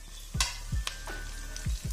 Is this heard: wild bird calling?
no